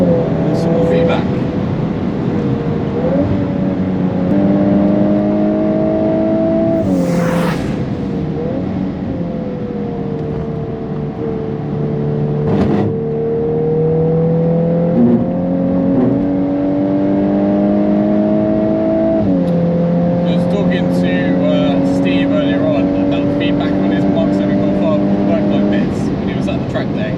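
A VW MK8 Golf R laps a race track, its engine note climbing and dropping through the gears with sharp shift breaks and one brief burst of noise, loud and close, while a voice talks over it.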